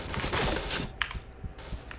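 Shotgun fire in the online shooter game Point Blank: a burst of dense rapid gunfire followed by a few sharper separate shots, loud and close with no voices over it.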